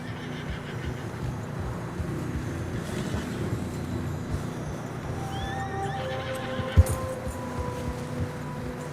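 Horses plod through fresh snow in the video game Red Dead Redemption 2, with soft muffled hoofsteps and low snorting, and a single whinny rises near the end, with steady low ambience underneath.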